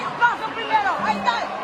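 Loud arena crowd at a boxing match in Costa Rica, a steady roar of cheering and chatter that rises in several surges, with voices shouting throughout.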